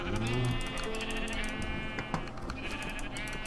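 Several sheep bleat in quick succession in Minecraft, with steady game background noise and light clicking underneath.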